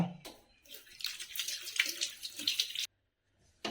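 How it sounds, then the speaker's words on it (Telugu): Tap water runs while a bowl is rinsed and washed by hand during a meal of dried fish and ragi balls, a steady close splashing hiss that breaks off abruptly near the end, with no talk. "ఈ గిన్నె ఎత్తుకొని నీటి కడిగేయండి"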